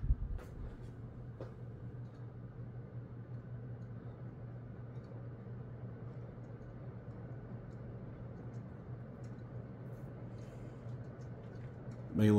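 A 52-inch early Emerson hardwood ceiling fan runs on its high setting, giving a steady low hum and broad airy whoosh that holds evenly throughout, with faint ticks near the end.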